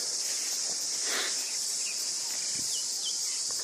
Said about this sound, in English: If the cicadas weren't so loud